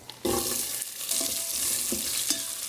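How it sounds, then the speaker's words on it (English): Onions sauté with cumin and mustard seeds in an Instant Pot Mini, giving a soft steady sizzle with a few scraping stirs, close and without voices. "We're just softening the onions slightly to develop the flavours"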